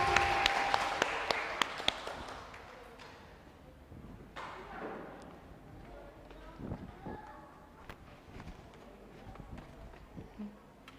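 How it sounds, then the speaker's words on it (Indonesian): An audience at a school Christmas celebration in Palembang applauds a children's performance. Sharp, close claps come first, then the clapping fades into a scattered patter with some shuffling. "Berikan tepuk tangan."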